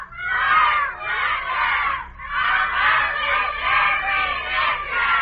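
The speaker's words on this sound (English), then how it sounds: "try to yell louder than the cadets here in the ready room" A group of cadets in a ready room yelling their official slogan together, several long sustained crowd shouts in rhythmic waves, loud and close.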